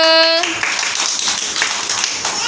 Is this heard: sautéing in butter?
no